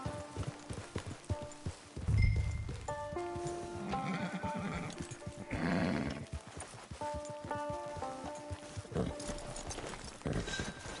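Horse hooves clip-clop steadily in Red Dead Redemption 2, with a whinny and snorts rising over game music and ambient sounds, close and moderately loud.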